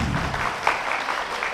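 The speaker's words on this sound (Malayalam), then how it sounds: "എല്ലാവരും നല്ലതുപോലെ ഒന്ന് കൈയടിച്ച്." An audience claps together at an Onam celebration, giving a short burst of moderately loud, dense applause with no voices above it.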